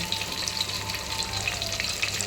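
Drumsticks fry in a pan with green chillies, a soft steady sizzle with faint crackling throughout, close and quiet with no voices.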